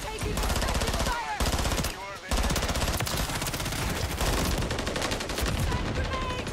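Sustained automatic gunfire in Call of Duty Modern Warfare 3 multiplayer, dense and loud bursts rattling almost continuously with brief gaps, while game radio voices call out over the shooting.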